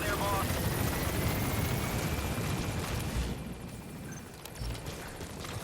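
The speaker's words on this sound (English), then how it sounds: "Looks like we got a chopper" Helicopter in the game Metal Gear Solid V: The Phantom Pain: a loud, churning rotor roar dominates at first, then drops to a quieter, more distant rumble for the rest.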